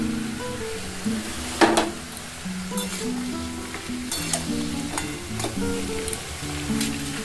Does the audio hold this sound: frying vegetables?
yes